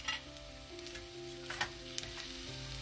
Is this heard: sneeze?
no